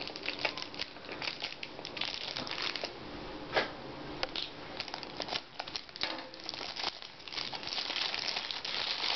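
Tightly taped plastic packaging is peeled and crinkled off a wireless mouse from an Asus Eee Top ET2002 desktop box, with close, continuous crackling and rustling broken by sharper snaps and tearing bursts.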